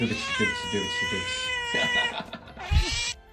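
An angry cat yowls and caterwauls close by in long drawn-out wails, upset by the smell of another cat, with a couple of short sharp bursts near the end.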